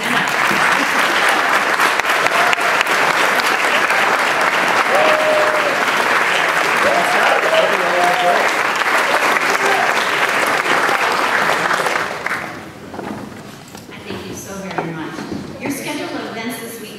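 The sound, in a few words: audience applause at a conference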